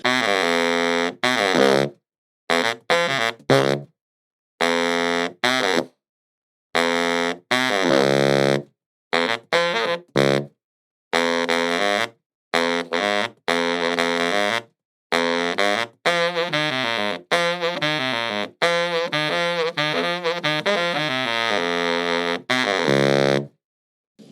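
Saxophone played through a mouthpiece under test: a series of bright, buzzy phrases and sustained notes separated by short silences, close and loud, with no talking.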